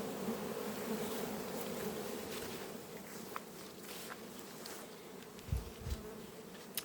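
Honey bees buzz steadily at a working apiary in autumn, a dense continuous drone of many insects close by with a few brief louder passes, and no talk.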